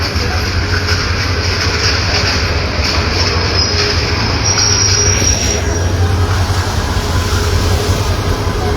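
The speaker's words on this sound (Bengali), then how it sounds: "11 সিন্দুর গোধূলি ট্রেনটি আসলে মাত্রই প্ল্যাটফর্মে প্রবেশ করলো" The 11 Sindur Godhuli train pulls into a platform at Kamalapur railway station, making a loud, continuous rolling rumble with a high wheel squeal that fades out partway through.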